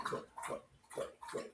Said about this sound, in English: That's my dog drinking water.